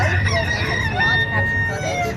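Chickens cluck and a rooster crows at Granny Pig's chicken coop in the Peppa Pig Theme Park in Orlando, a busy, steady layer of bird calls over outdoor background noise throughout.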